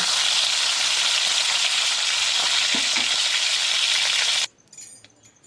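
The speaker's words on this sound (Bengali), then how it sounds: "আবারও একই তেলে আমি চিংড়ি মাছটা ভেজে নেব" Steady, loud sizzling of prawns frying in hot oil, a dense crackling hiss that cuts off abruptly near the end, leaving a few faint clinks.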